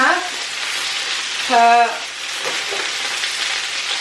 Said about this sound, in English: Sorry if you can't hear me very well over the sizzling